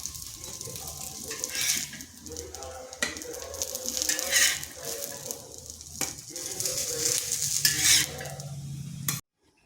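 Cabbage and egg pieces are lightly fried in a pan at home, soft sizzling broken up by repeated stirring and scraping of a utensil against the pan, close and moderately quiet, with no talking.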